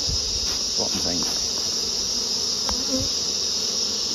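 Agitated honey bees swarm around an open hive in Crossmaglen, their buzzing forming a steady, dense drone that fills the whole stretch, with a few faint thumps and rustles of handling beneath it.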